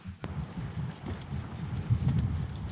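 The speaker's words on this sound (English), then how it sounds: "We got wind." Wind blows across a hiking trail as a low, uneven rumble and buffeting against the microphone, swelling and easing over a few seconds with no voices.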